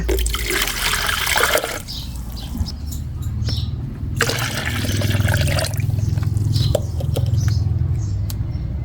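Water poured into a container to make up one liter for a lime fertilizer brew, a steady splashing, trickling pour that starts strong, eases, then surges again with a gurgling fill, close by with no speech.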